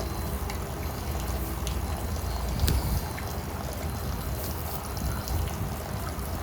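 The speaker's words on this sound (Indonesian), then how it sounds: "Ini nunggu airnya penuh mungkin memerlukan waktu sekitar 15-30 menitan." Water steadily filling an abandoned fish pond being refilled for catfish, a continuous loud rushing, splashing wash with no pauses and no talking.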